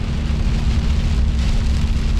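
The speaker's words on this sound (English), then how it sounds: "Tons of lightning everywhere and tons of rain." Heavy monsoon rain falls steadily in Capitan, New Mexico, during a lightning storm, a dense, even hiss close by with a low rumbling undertone and no voices.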